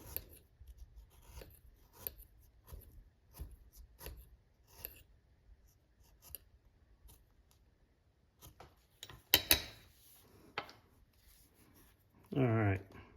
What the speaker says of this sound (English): I'm going to use my French skiver, and I'm going to thin out this piece of leather here